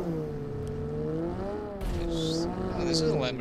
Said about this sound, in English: this is a Lamborghini